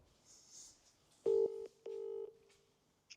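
Telephone keypad tones dialed to place a call: two clear, loud beeps in quick succession, each lasting a fraction of a second, followed by a faint click.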